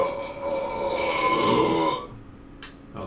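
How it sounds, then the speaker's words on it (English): One long, loud, rumbling burp from a man lasting about two seconds, close to the microphone, followed by a brief breathy sound. "That was a good burp."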